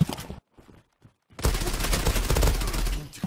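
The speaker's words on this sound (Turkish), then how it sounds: "silah sesi aç" A quiet opening with faint sounds, then a sudden burst of rapid, heavy video game gunfire from a Kriss Vector or M468 that rattles on loudly to the end.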